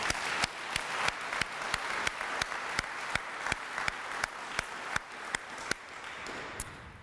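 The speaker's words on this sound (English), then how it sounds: "Let's give her a round of applause." An audience applauds an award winner at a university dean's outstanding achievement awards ceremony, steady dense clapping from many hands lasting throughout, fairly close and even in loudness.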